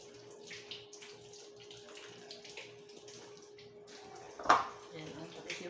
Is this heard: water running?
yes